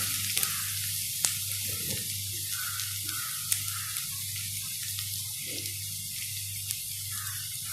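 Chili powder going into onions frying in a pan for pumpkin mezhukkupuratty, with a steady close broadband sizzle that runs throughout and a few small clicks and stirring scrapes.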